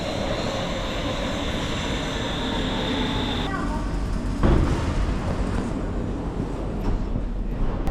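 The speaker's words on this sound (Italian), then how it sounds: "È una metro completamente vuota." A Stockholm metro train rides along with a continuous loud rumble and hum, and the tone shifts partway through as the carriage rolls on.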